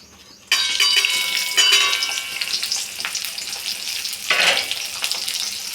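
Okra dropped into hot oil for stuffed masala bhindi bursts into loud sizzling frying, with stirring scrapes and surges of crackle as the pan is worked, close and continuous.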